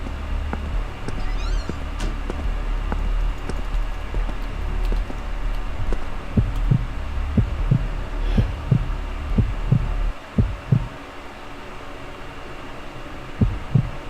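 A steady heartbeat thumps throughout in The Unknown horror video game, low, rhythmic and close, over a constant low hum with faint high game tones, with no speech.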